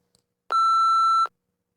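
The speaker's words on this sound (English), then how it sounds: "You may begin to prepare your response after the beep." A single clean electronic beep signals the start of response preparation in a TOEFL speaking test. The tone is steady and lasts under a second against silence.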